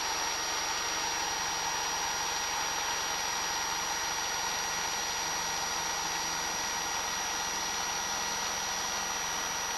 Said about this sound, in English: First night takeoff.